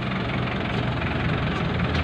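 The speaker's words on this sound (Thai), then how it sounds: "รถขุดจิ๋วรุ่นไหนเนี่ยรุ่นไหนเนี่ยเสี่ยวเหวย" A mini excavator's small diesel engine runs at a steady idle, close and continuous with a low knocking rumble and no voices.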